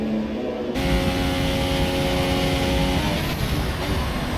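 A racing car engine roars steadily in an F1 video game at the Spanish Grand Prix, a loud sustained drone with a sharp onset and shifting pitch, and no voices over it.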